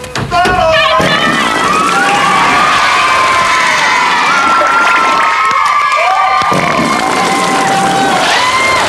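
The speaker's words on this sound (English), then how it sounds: "Massive round of applause, massive round" A television studio audience of children and adults cheers and shouts loudly and continuously during a live kids' show gunge segment, a dense roaring crowd sound with a presenter's voice cutting through.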